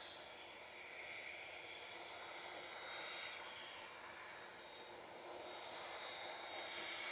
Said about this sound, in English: next up for a noisy departure at the spool up mound is GLSAE heading to Forteventura